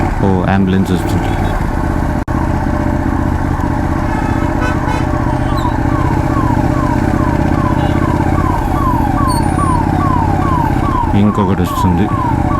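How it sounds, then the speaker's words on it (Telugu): An ambulance siren wails in a fast, steady repeating sweep on a road, heard through loud continuous engine and wind rumble from a moving motorcycle, staying prominent throughout. "అంబులెన్స్ వస్తుంది."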